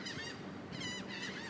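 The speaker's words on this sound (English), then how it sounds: "look at the other ducks coming now." Ducks being fed call out in a burst of nasal honking quacks, three overlapping rising calls close by over a constant background hiss.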